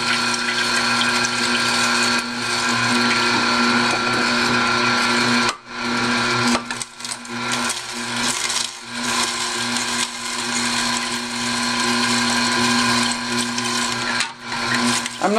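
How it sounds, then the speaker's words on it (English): An Omega NC800 slow juicer grinds celery with a steady, loud motor hum and whine, briefly dipping twice as stalks are fed and crushed. "Now let's see how it fares with celery."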